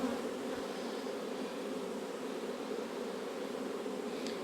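Honey bees hum in a steady, dense drone from an open late-summer hive, close and even throughout, with no voices.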